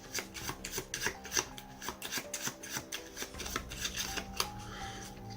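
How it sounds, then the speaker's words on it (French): Spectators shuffle playing cards during a magic trick, a rapid series of close riffling and rubbing bursts in an irregular rhythm, clear and unaccompanied by talk. "on demande aux spectateurs de bien mélanger les cartes comme ils le souhaitent"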